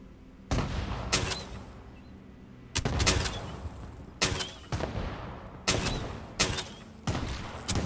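Heavy gun bursts from the Fallout 76 video game, fired in several loud, sharp volleys of rapid shots separated by brief pauses, with no talking.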